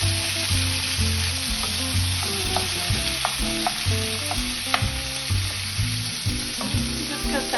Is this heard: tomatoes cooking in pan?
yes